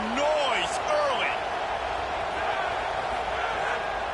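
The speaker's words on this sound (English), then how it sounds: "This crowd bringing the energy and noise early" A football stadium crowd roars in a steady, broad wash of noise, with whistles and cheers rising above it at the start, while a voice talks over it.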